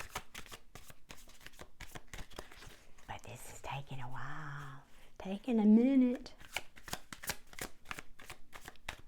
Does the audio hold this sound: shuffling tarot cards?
yes